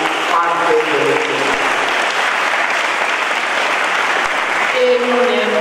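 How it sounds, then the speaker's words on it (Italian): Sustained applause from the audience at a nineteenth-century ball event with waltz, polka and quadrille dancing, steady and loud throughout, with a few faint voices and musical tones at the start and end. "un applauso a questo punto ci vuole veramente per tutti"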